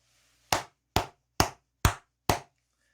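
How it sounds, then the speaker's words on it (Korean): Five evenly spaced, sharp hand claps, close and loud against near silence. "크게 박수 한번 치고 가도록 하겠습니다"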